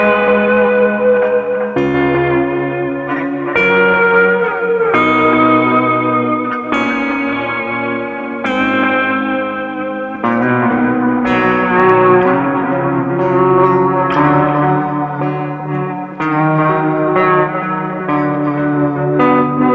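Sustained electric guitar chords wash together with lush reverb and dotted-eighth delay echoes through a filter, each strum trailing into the next in a dense, dark ambient swell.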